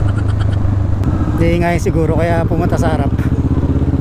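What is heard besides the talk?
motorcycle engine noise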